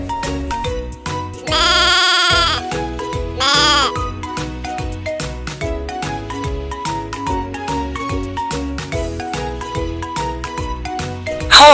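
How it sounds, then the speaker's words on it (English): A goat lets out two bleats, first a long, loud, quavering cry and then a shorter one, set over rhythmic background music that continues under the calls. "Goat."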